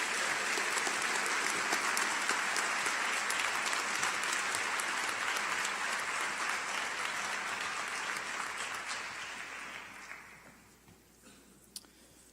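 Audience applause at a university honors convocation recognizing award candidates, a steady, full round of clapping from a large crowd that holds for about ten seconds, then fades out.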